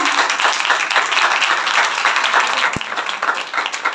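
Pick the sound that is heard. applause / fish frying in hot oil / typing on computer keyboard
applause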